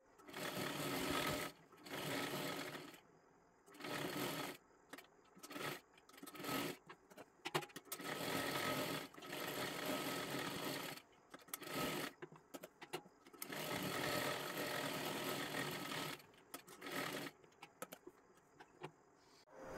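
A sewing machine stitches a girls' long one-piece dress in repeated bursts, close and fairly quiet, with short runs of rapid whirring separated by brief pauses.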